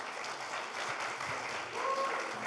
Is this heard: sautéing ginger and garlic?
no